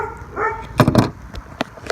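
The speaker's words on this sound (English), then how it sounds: "You'll have to excuse my dogs, they're terrorizing squirrels." Dogs bark outdoors at squirrels, giving a couple of sharp close barks in quick succession with a softer yip before and after.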